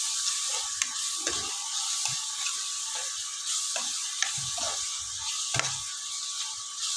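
Food frying in a pan with chili powder added, a steady broadband sizzle running throughout with scattered soft scraping knocks from stirring, close and moderately loud, no talk.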